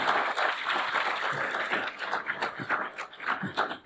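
Sustained applause from an audience at a homeowners association annual members' meeting after an election winner is announced, dense clapping filling the room throughout with a few whoops and murmurs mixed in.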